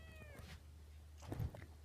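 A small kitten gives a brief, soft meow near the start over a low steady background hum, followed by faint rustling and a light bump.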